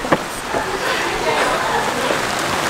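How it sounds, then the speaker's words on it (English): Heavy rain pours steadily as a dense, loud, broadband hiss that fills the whole stretch without a break, with a few sharper patters and no talking over it. "Okay, it's raining again"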